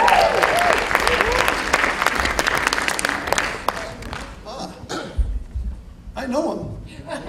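An audience at a youth talent showcase bursts into loud applause, dense clapping with some chuckles and crowd noise, thinning out near the end as a voice begins to speak.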